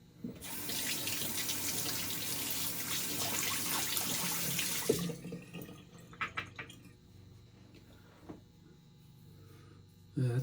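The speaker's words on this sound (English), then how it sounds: "we'll just rinse off here and we'll finish up" Water runs steadily from a tap during rinsing, a loud continuous gush for about five seconds that then stops, leaving quiet drips, clatter and small handling sounds.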